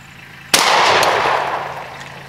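A single loud shotgun blast from Remington 6 shot game loads, one sharp crack at close range followed by a long decaying boom, with no talking.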